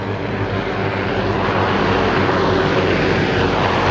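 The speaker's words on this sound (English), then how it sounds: "Helicopters overhead." A loud, steady engine drone from helicopters flying overhead above a freshman championship football game fills the air as a constant roar with no breaks.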